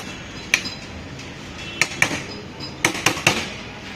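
Beef handi stirred in a metal pot, giving sharp clanking knocks of a ladle against the rim in irregular bursts over a low background hum, close and fairly clear.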